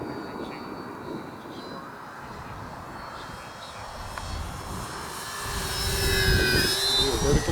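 An Avios Twin Otter twin-engine RC STOL plane flies overhead with a steady electric whine whose pitch shifts as it passes. The sound builds louder near the end, with faint wind noise underneath.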